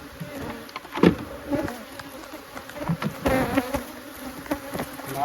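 Honey bees buzzing steadily around an open beehive during a yard inspection, a close continuous drone with individual bees swelling louder as they fly past, no talking.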